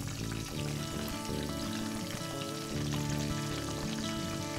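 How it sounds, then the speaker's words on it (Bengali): Bay leaf, dried red chilli, whole garam masala spices and cumin tempering in thick oil over low heat for lau chingri, a steady soft sizzle and crackle running continuously with a low hum beneath. "এবার তেলে ফোড়ন পড়বে মাত্র একটি করে তেজপাতা, শুকনো লঙ্কা আর গোটা গরম মশলা,"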